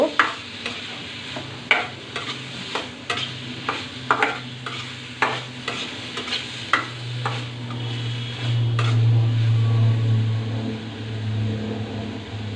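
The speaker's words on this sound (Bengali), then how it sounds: "এখন আমি পেঁয়াজটাকে ভালো করে কষিয়ে নিব" Onions with cumin powder frying in a pan, stirred with a utensil that scrapes and taps in a quick irregular rhythm over a low sizzle, then a steadier, louder frying hum toward the end; no one speaks.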